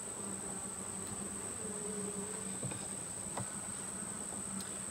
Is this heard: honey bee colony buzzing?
yes